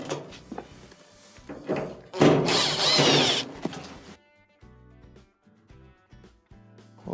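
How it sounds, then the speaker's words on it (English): Power drill backing out two Phillips screws from a dryer panel during a repair for a drum that will not spin, a loud continuous whir lasting about a second at close range, with softer clicks and handling noises before and after. "Remove the 2 Phillips screws."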